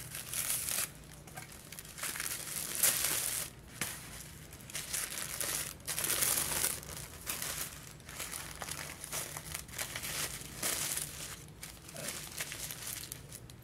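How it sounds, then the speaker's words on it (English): Pink tissue paper wrapping on a small subscription beauty package crinkles and tears as it is opened, with repeated close, loud rustling bursts and brief pauses in between. "I got this little package I'm opening with the infamous pink tissue paper and black ribbon"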